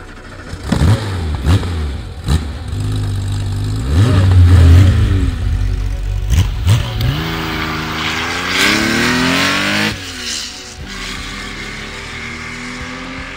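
A Porsche 911 restomod engine revs hard through several loud, rising sweeps, close and aggressive, then settles toward a lower idle.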